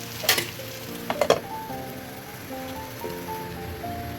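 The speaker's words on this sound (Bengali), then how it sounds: "এভাবে নেড়ে চেড়ে আরও কিছুক্ষণ আমি দমে রাখবো, যতক্ষণ না একটু ভাজা ভাজা না হয়ে আসে" Shredded beef frying in oil in a pan, stirred now and then, with a steady low sizzle and a few brief scraping clatters near the start.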